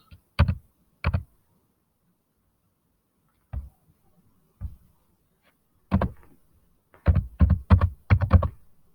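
Someone types on a computer keyboard in a quiet room. Sharp, close key clicks come in scattered singles and short bursts separated by silence, with a quick flurry at the end.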